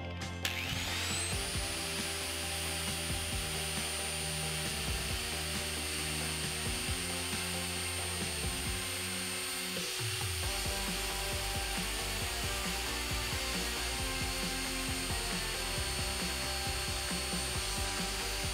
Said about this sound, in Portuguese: eu vou cortar essa partezinha aqui da cabeça do prego